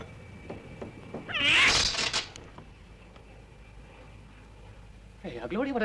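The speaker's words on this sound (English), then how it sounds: "Never heard a cat make a noise like that." A cat lets out a loud, wavering yowl in a 1960s film scene, rising and falling for about a second, followed later by a shorter cry over quiet room tone.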